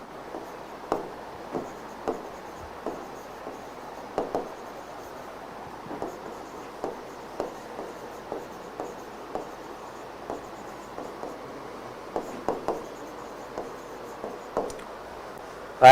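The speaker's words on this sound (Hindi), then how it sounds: "जैसे एग्जाम्पल लिख देता हूँ मैं इधर" Marker or chalk strokes on a classroom board while an English tense example is written out, a steady run of short scratchy taps and squeaks in irregular rhythm, close and moderately loud with no talking.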